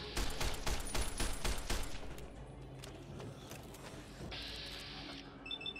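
Rapid gunfire in the video game Fallout: New California, a burst of fast repeated shots in the first two seconds followed by quieter mechanical clicks and electronic game tones.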